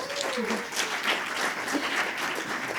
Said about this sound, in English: Round of applause, please, for that